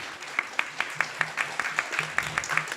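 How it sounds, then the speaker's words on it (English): Applause at a children's annual day and graduation celebration, a small group clapping in a fairly regular rhythm with distinct individual claps, moderately loud. "Big round of applause to Ananya Radhika Mataji."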